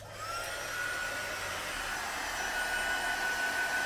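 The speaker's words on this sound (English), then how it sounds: "Just gonna hit it real quick with the heat gun." A heat gun drying ink on a handmade card gives off a steady, close, loud rushing blast of air with a faint whine, running continuously throughout.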